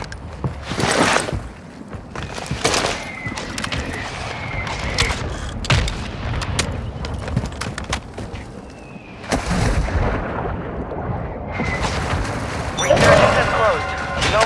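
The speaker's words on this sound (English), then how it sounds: "Our mortar strike is inbound." Mortar strike explosions in Call of Duty Modern Warfare 2, heavy booms and blasts crashing repeatedly across the whole stretch, loud and near, with in-game gunfire and bits of talk mixed in.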